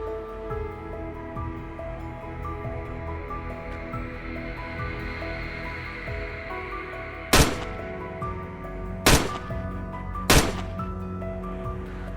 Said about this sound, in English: unleashed a rapid barrage of bullets